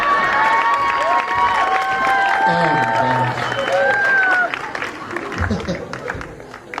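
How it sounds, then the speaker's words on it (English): Burlesque show audience applauding and cheering a volunteer after an escape-artist act, a loud, continuous crowd roar with shouts and whistles, fading somewhat toward the end, mixed with a presenter's voice and an exclamation. "Give her a big round of applause."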